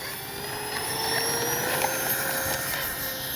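A Freewing AL37 RC jet roars on its takeoff run, a steady, moderately loud turbine-like whine sustained throughout with no talking.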